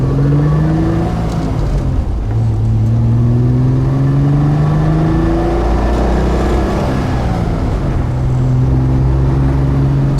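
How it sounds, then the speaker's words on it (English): A stock 1973 Triumph TR6 straight-six engine with a standard 4-speed gearbox accelerating loudly and steadily, its pitch rising through the gears with a brief drop at a shift, close and continuous. "nice strong pull of the straight 6"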